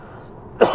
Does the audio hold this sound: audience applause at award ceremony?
no